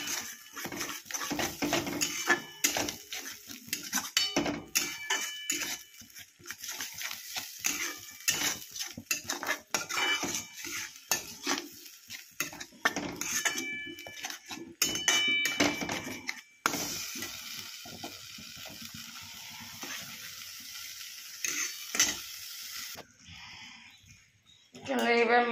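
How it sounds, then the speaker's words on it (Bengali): Food stirred in a cooking pan for chicken patiala, with a spoon repeatedly scraping and clinking against the pan under a light sizzle, and a voice speaking in places. "ভালো করে নেড়ে নেড়ে"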